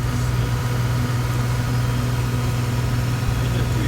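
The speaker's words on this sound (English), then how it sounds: "Engine 2 is now starting." Engine 2 of a Zibo Boeing 737-800 starting in the X-Plane 11 simulator: a steady, loud low drone with a constant hum, unchanging throughout, no talking.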